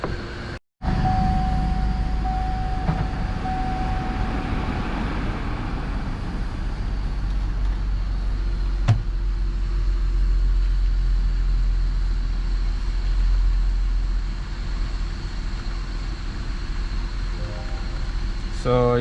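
A Chevy Impala engine cranks and settles into a steady idle after a purge valve solenoid replacement, a constant close low rumble that runs without a break.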